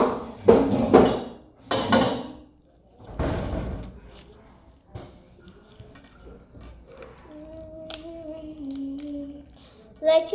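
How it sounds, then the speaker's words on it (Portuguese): Indoors, a door in a house is forced open: several loud thumps and bangs in quick succession, then quieter rattling and shuffling while someone talks in the background. "Olha, eu vou forçar a porta."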